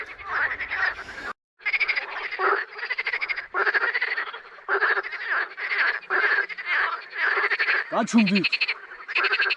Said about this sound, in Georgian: რამდენი ბაყაყია.